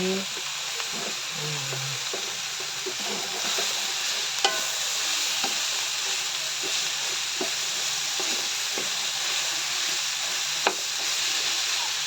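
Chayote stirred into sizzling picadillo in a pan, with a continuous frying hiss and occasional scrapes and clinks of the spoon against the pan.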